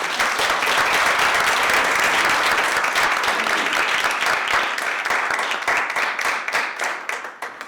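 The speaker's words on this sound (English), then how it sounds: "Please join me with your warm applause in welcoming Laura Sanchez." Warm audience applause welcoming Laura Sanchez to the stage at a thought leadership talk, a dense steady wash of many hands clapping that holds loud for most of the stretch and thins slightly toward the end.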